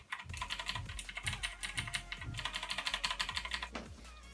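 Rapid typing on an Ajazz AK33 75% budget mechanical keyboard, a steady close stream of clicky keystrokes with a brief pause near the end, no voices.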